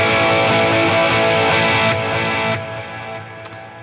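Loud distorted electric guitar chords ring out, then cut off, leaving a trailing reverb wash and fading dotted eighth note delay echoes.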